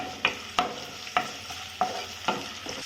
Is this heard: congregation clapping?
no